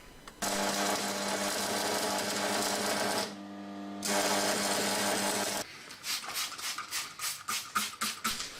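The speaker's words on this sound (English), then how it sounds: "Now the chain handle's all welded together" An electric welder works on a chain axe handle with a loud, steady buzzing arc in two long runs, split by a short gap, then a series of short rhythmic bursts near the end.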